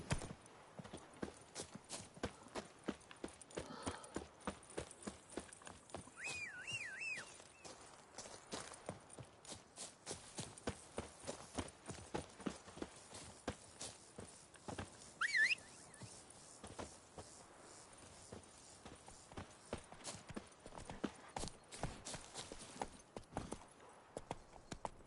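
Roach, a horse in The Witcher 3, runs with steady rhythmic clip-clopping hooves throughout, moderately close and fairly quiet, with a few faint incidental sounds mixed in.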